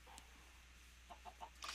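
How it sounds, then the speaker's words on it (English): Chickens cluck faintly in the blocky video game Minecraft, with a few soft, short clucks in quick succession near the end over a quiet background hum. "It's a lot of chickens."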